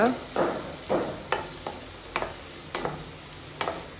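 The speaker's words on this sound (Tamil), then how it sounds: "ஆனியன்ஸ் நல்லா வதக்கிக்கோங்க." Finely chopped onions sautéing in a pan for paneer butter masala: a soft sizzle broken by rhythmic stirring scrapes about every half second, close by with no talking.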